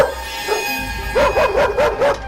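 A dog barking at thieves inside a house, a quick run of five sharp, loud barks close by after a brief whine.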